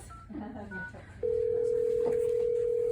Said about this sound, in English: It's ringing that phone now.